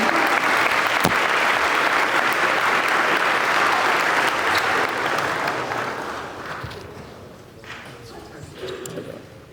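A school audience gives the prefects a loud, sustained round of applause at a Recognition Day ceremony, dense clapping that fades gradually toward the end.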